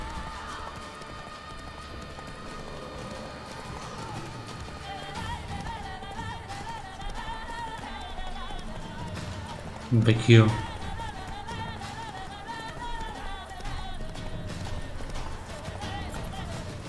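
Horse hoofbeats patter continuously in The Witcher 3: Wild Hunt under game music and a voice, with a sudden loud horse whinny midway.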